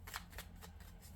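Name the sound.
shuffling a deck of cards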